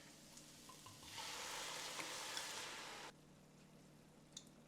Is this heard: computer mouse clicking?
no